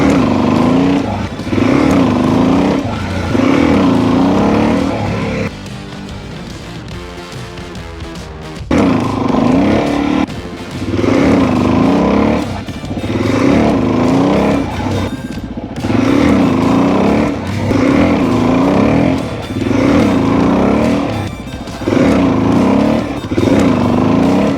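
A motorcycle engine revs repeatedly during wheelie attempts, surging loud and close in rhythmic throttle bursts with brief dips between them, including one longer lull midway.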